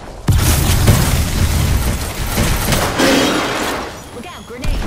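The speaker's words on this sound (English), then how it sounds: "Look out, grenade!" Grenade blast in the video game Apex Legends: a sudden loud boom at the start, then a long rumbling, crackling tail with further bursts, heard under a player's voice.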